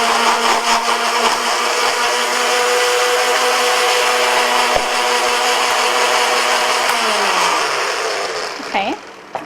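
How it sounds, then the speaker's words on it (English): A blender runs loud and close, blending strawberry salsa ingredients with a steady, high whirring motor roar that holds for several seconds before spinning down and sputtering to a stop. "might want to throw just a few of those in and blend those up"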